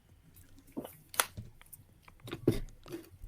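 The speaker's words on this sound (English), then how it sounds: "Why are his gulps so powerful?" A man gulps loudly, several wet swallowing and mouth sounds coming in uneven bursts close to the microphone, with no talking.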